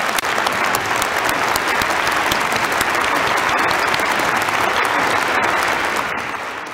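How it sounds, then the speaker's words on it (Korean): A congregation claps at length during a Sunday church sermon in 2022: dense, loud applause that holds steady throughout and eases off only at the very end, with no voices over it. "깊은 감사의 박수를 올려드리겠습니다"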